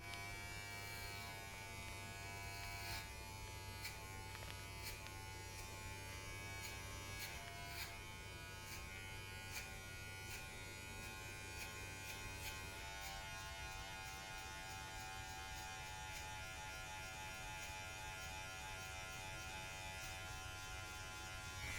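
Electric hair clipper fitted with a one guard buzzing steadily and loudly throughout a self-administered buzz cut taper fade, its tone shifting slightly partway through as the clipper moves over the head, with no talking.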